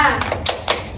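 Schoolchildren in a classroom performing a rhythmic clapping chant, a few sharp claps landing in a quick pattern amid children's voices and talk, close and lively.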